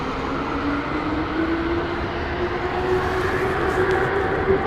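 A JetBlue airliner at London Heathrow Airport gives off a steady, rising jet engine roar, loud and continuous, with a faint high whine above it and no voices.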